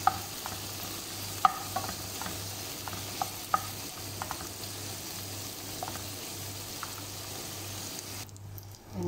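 Shrimp and browned garlic stirred in a frying pan for prawn pasta: a steady low sizzle with soft scattered clicks of a spatula against the pan, ending in a brief quiet.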